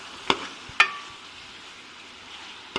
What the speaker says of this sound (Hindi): मैं इसे फ्राई करूंगा हल्की आंच के ऊपर, ताकि जो चिकन का कलर है वो चेंज हो जाए